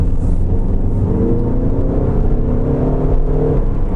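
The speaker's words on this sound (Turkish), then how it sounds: "Şimdi bir de sport modda yani gazlayalım." A 2.0 TDI 190 PS diesel car engine revs hard in sport mode, a loud, close, rising drone climbing steadily in pitch over several seconds with no talk.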